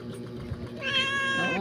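A cat sitting on a table meows once, close and clear, a rising, drawn-out cry over a low background hum.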